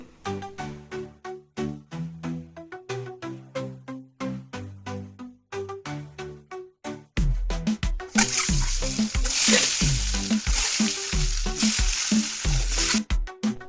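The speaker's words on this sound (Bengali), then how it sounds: "নুন হলুদ মাখিয়ে হালকা করে ভেজে নেব" Boiled eggs rubbed with salt and turmeric sizzle and spit in hot oil in a pan. A steady loud frying hiss with stirring clatter swells in partway through, with no talk over it.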